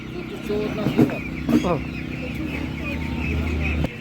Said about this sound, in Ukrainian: Дивіться, оця курка білий легорн.